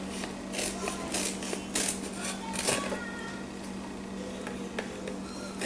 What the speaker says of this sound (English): you can use this board to just cut right along the board